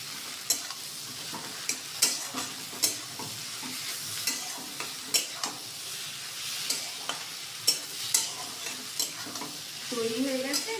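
Eggplant fried with egg and onion in a pan, stirred with a spatula in steady, sharp scrapes and taps over a constant close sizzle.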